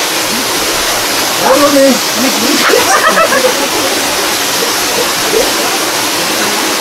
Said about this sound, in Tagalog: Yan, talon.